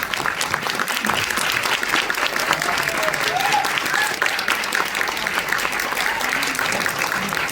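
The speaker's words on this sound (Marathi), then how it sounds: "एकदा जोरदार टाळ्या श्री देविका मुली दशावतार मंडळांसाठी" An audience gives a dense, sustained round of applause for a Dashavatar folk-theatre troupe from Konkan, loud and close, with the clapping steady throughout and faint voices underneath.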